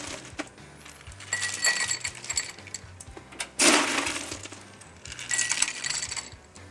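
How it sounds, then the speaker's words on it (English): Ice cubes dropped into a glass while mixing a citrus vodka cocktail at a backyard barbecue, giving a few clinking, cracking knocks with one sharp clattering burst in the middle, moderately quiet with no talk. "throw a little ice in there"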